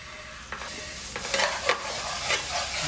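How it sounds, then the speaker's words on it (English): Garlic and ginger sizzle steadily in hot oil in a pan while making chicken karahi, a continuous frying hiss broken by a few louder bursts of stirring, close and alone without talk. "And you've got your garlic and ginger in here, just sizzling nicely"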